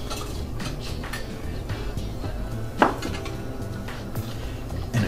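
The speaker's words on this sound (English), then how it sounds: "I'm going to stir it just with a whisk or something and get it right in the mold." A whisk stirs a homemade natural soap mixture in a container with light clinks and scraping, steady and close, with occasional sharper knocks.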